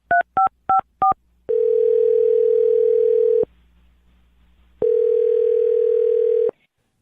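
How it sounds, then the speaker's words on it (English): A telephone dialing a number: four quick touch-tone beeps, then two long steady ringback tones separated by a pause, clear and close with no talk. "I'm going to dial James' phone number right now"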